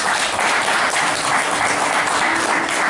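An audience at a gallery concert of metaphor and sound applauds loudly and steadily, dense continuous clapping filling the room for a few seconds, close and full.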